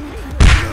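A single heavy thud of a quarterback being sacked in the NFL Blitz 2003 football video game, a sudden loud impact with a crunching burst that follows a quieter stretch.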